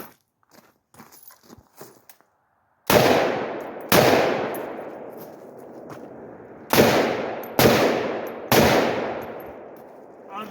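Five sharp, loud gunshots from an AR-15 with a 7.5-inch barrel firing 7.62x39 AK-47 rounds, spaced irregularly over several seconds, each with a long ringing outdoor decay, after a few quiet handling clicks.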